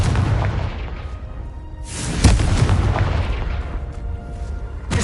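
A Confringo fire spell exploding in Hogwarts Legacy: a deep boom bursts out mid-clip and rolls away, with another strike at the end, loud and close over a low ambient rumble.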